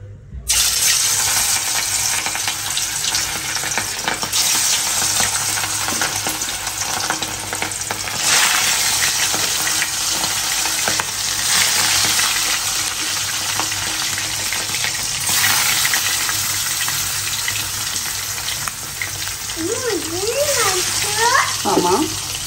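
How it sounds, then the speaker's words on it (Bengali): Eggs frying in a hot pan in a home kitchen, a loud, steady sizzle that runs unbroken throughout, with a voice briefly heard near the end. "ডিম ভাজতেছি ইলিশ মাছ ভাজলাম"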